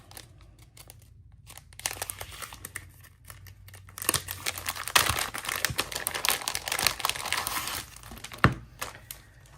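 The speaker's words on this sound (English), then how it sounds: "This is how it comes in a little Mylar bag. So I'm gonna open it up." A small Mylar bag holding a sticker subscription is handled and opened up close, giving bursts of sharp crinkling that grow louder and denser midway, with a few crisp snaps, no talking.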